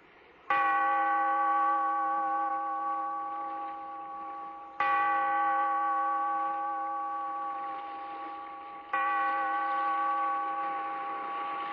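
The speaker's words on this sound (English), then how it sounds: "Bellkeeper, toll the bell, so that all may know we are gathered again in the weird circle." A single bell tolls three times for a radio drama, each clear, resonant strike ringing out with a long sustained hum that slowly decays before the next, heard alone and close.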